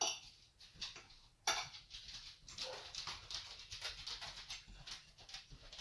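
A dog whimpers faintly in a kitchen amid light clinks of cutlery and dishes, with soft repeated whines and rustling and no talk.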